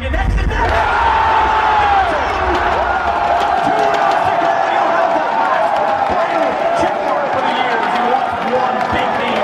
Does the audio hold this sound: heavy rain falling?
no